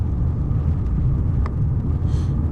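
A 2007 Ford Mustang GT with its 4.6L three-valve V8 and manual transmission, heard on the move as a steady, continuous low engine rumble filling the cabin, with no speech over it.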